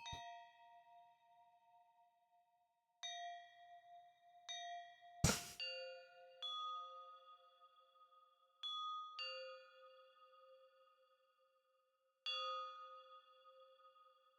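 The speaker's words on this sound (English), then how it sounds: "I like wind chimes" Wind chime puzzle tones in the video game Tunic: clear, ringing bell-like dings struck one at a time at irregular intervals, each decaying slowly, with one sharp louder clang partway through and two tones sounding together near the end.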